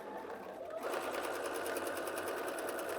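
A sewing machine runs steadily while quilting fabric over a Supreme Slider, a smooth, continuous mechanical whir that starts after a brief quieter moment and stays loud and close with no talk over it.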